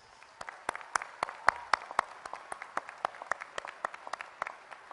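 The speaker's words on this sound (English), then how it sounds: "Another round of applause for them," Sparse applause rings out at a university winter commencement ceremony, with distinct individual claps in an irregular rhythm, fairly faint and somewhat distant in a large hall.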